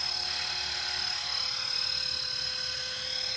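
Training helicopter hovering during a lesson, a loud steady rotor and turbine drone with a high whine, heard from inside the cabin without pause.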